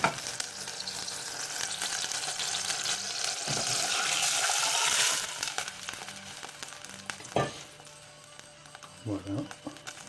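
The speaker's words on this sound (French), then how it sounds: "on va faire revenir la sauce quelques minutes dans l'huile" Tomato-style sauce and garlic sizzle steadily in hot oil for a Mediterranean soup, a loud close broadband hiss for about five seconds, then quieter frying with a few clanks of stirring and a brief voice near the end.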